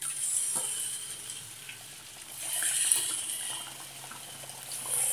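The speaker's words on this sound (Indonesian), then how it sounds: "kita ketepikan dan kita goringkan seterusnya" Kuih keria, Malacca sweet potato donuts, frying in hot oil gives a steady hiss and sizzle with no voices, swelling slightly at times.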